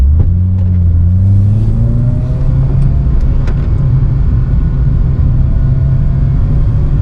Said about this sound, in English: The exhaust definitely rattling off the floor. I'm pretty certain it's the engine moving, not the exhaust.